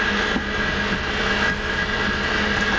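A jet aircraft roars steadily close by in Grand Theft Auto V, a loud, continuous engine whine and rush with no break across the moment.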